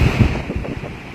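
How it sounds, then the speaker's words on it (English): Strong wind roars against the microphone while hurricane-driven surf pounds on the Florida coast, a loud, continuous rumbling wash with no talking. "Oh my goodness, look at these waves."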